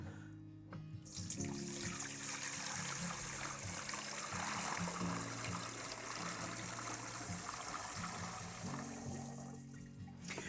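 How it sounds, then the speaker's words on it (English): Water pours steadily into the tank of a Ryobi 18-volt cordless 4-gallon backpack chemical sprayer, a continuous close splashing and gurgling rush lasting several seconds with no talk. "We'll just pour the water in there."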